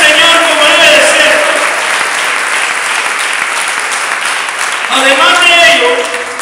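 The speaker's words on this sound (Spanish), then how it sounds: "Den esas palmas y le den al Señor como debe de ser." Sustained applause from a church congregation, a dense wash of many hands clapping close and loud, swelling again toward the end.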